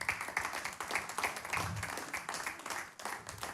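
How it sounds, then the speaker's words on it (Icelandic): Church congregation clapping together at a worship service, a steady dense patter of many hands that fills the whole stretch at moderate level, with a few scattered voices mixed in. "Eigum við ekki að gefa þessum yndislega fólki hérna gott klapp?"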